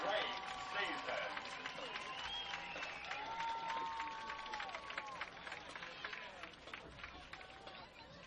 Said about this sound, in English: Another round of applause to show our support